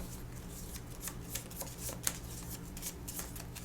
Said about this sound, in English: So now we shuffle these cards we got and draw 3.